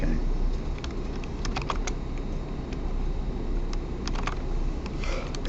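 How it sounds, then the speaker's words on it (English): Typing on a computer keyboard during a programming lesson on loops: irregular bursts of sharp key clicks over a steady background hum, with no talk over them. "Especially if I'm typing"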